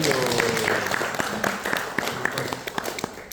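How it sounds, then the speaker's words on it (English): Audience applause at a Vaishnava arts festival session, clapping that starts full and thins out into scattered individual claps, with a voice speaking over part of it. "let's give Shauna a round of applause"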